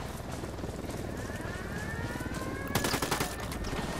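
In the video game Ghost Recon Wildlands, a helicopter drones over a steady noisy background. A rapid burst of automatic gunfire breaks in partway through and keeps going to the end.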